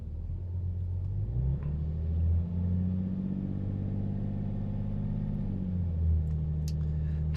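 BMW engine held steady around 2000 RPM during a forced DPF regeneration, a close, steady low rumble with harmonics that rise and settle slightly as the revs climb, with no talk.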